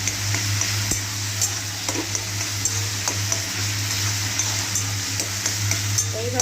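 Eggplant frying with spices in a pan while being stirred, a steady close sizzle with scattered scraping taps from the spoon, and someone speaking Bengali over the cooking.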